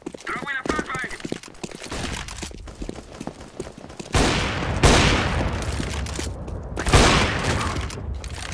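Flashbang grenade detonating in Counter-Strike on the Inferno map after clattering footsteps and gear noise, two sharp loud bursts each followed by a ringing, fading wash.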